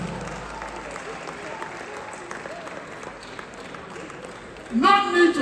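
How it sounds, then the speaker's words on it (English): An audience at a comedy show gives steady, moderate applause for several seconds before a voice cuts in loudly over the tail of the clapping. "Give them a round of applause, ladies and gentlemen."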